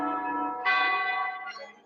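Church bells in a clock tower chime close and resonant, one sustained ringing tone followed by a brighter second strike that hums and slowly fades.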